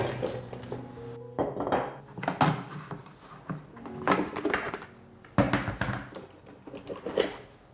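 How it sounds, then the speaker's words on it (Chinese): Stainless steel mesh basket loaded with okra and a four-blade cutter fitted into the cooker pot of a GREENIS smart cooking machine, giving close clanks, clinks and scrapes of metal on metal in irregular bursts, with no talking. "先把秋葵放入这个附赠的不锈钢网篮里面，煮锅中安装4叶刀头，先把它放进去。"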